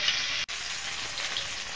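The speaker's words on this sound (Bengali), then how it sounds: "তেলটা গরম হয়ে গেছে, আমি পনিরগুলো দিয়ে দেব, ভেজে নেব" Paneer pieces frying in hot oil, a steady, close sizzle with a brief dropout near the start, no voices.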